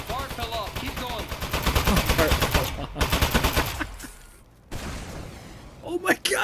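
Rapid gunfire and rocket blasts from the video game Aperture Desk Job, dense bursts of shots that fade out near the end, with people talking and reacting excitedly over the action.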